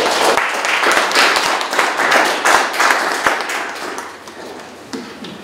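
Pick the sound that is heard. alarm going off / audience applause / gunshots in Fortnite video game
audience applause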